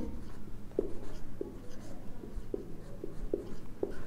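A pen writing on paper in quick, light scratches, with several short strokes spaced out over a faint room background.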